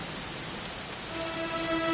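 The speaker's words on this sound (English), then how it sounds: "it was raining like this the last time I ever saw her" Steady rain hisses in Dragon Quest XI, a soft, even wash of falling drops, with a faint tone rising near the end.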